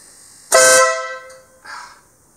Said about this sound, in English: And then I'm hooked up to the air horn.